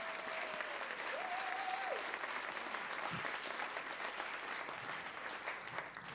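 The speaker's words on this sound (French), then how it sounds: "Applaudissez bien fort les participants de la finale locale de Cégep en spectacle." An audience in a hall applauding the finalists of a local student performance contest, with steady, dense clapping that carries on throughout and fades slightly at the end.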